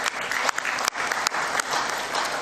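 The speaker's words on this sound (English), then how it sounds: "Can we please clap hands for that resolution that you passed?" Delegates at a football confederation general assembly clap together in a large hall, a continuous burst of applause with a few sharper individual claps standing out, steady throughout the short stretch.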